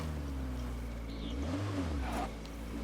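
A car engine drones steadily in State of Decay 2 as the vehicle drives along, a continuous mid-low rumble with a slight rise in pitch partway through, loud and close throughout.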